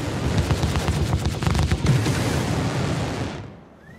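Weapons fire pounds a ship's shields in Star Citizen, a dense, loud rumbling barrage of crackling impacts that rolls on steadily, then fades away at the end.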